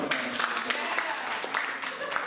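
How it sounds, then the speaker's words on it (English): Audience applause at a mentalist show at Felician University, a brief spell of scattered clapping with a murmuring crowd underneath. "Give a round of applause."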